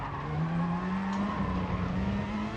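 Car tyres squeal during a spin in the video game GT Sport, a continuous pitched screech over a steady race-car engine drone, loud and close throughout.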